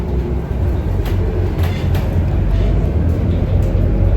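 Inside a crowded city bus in Singapore, a steady loud engine rumble and road noise hum continuously with clattering vibration throughout.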